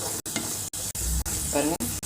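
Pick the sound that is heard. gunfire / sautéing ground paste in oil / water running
sautéing ground paste in oil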